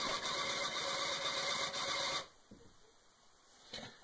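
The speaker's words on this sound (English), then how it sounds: "let me go ahead and run that program, and you'll hear the printer do its thing." A printer attached to an old home-built computer prints lines of text, producing a loud, steady mechanical buzzing chatter that stops abruptly partway through, followed by quiet and a brief faint clunk.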